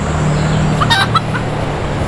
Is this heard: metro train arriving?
no